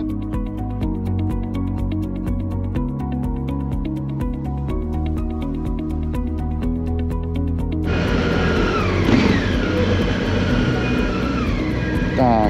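A car driving along a side road, its engine holding a steady, close droning hum throughout, with the road noise growing rougher partway through and people talking over it.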